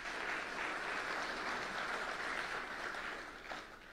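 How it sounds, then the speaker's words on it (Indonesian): Dense applause from a crowd at an Indonesian presidential ceremony in Jakarta launching a bank gold service, a steady wash of clapping that fades slightly near the end. "Tepuk tangan buat beliau."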